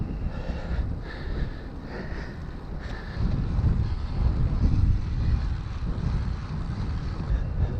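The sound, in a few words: wind on coastal ride in the Lincolnshire Wolds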